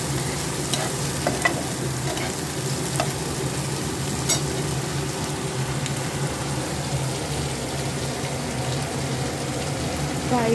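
Two garlic cloves fry in oil in a pan as ladies' finger (okra) fry is prepared, giving a steady, close, continuous sizzle with faint stirring scrapes and no talk.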